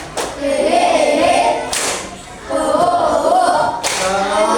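A group does the rhythmic tepuk semangat clapping routine, with loud bursts of claps breaking into spirited chanting voices.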